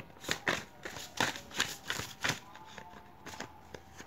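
Tarot cards being shuffled, a series of quick riffling bursts in uneven rhythm, close and crisp, with no talk over them.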